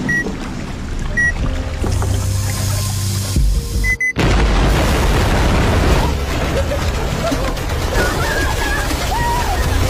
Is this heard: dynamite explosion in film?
yes